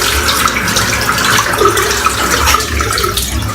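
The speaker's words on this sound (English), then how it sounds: "I'm just going to rinse off the brush" Running water pours steadily from a tap over a shaving brush as it is rinsed clean, a constant close splashing gush with no talk.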